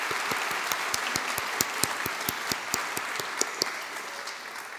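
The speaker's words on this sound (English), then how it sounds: "Please join me, everyone, in giving Juno another round of applause." Audience clapping at a Melbourne Polytechnic graduation ceremony, a steady round of applause from a moderately sized crowd, heard alone without talk.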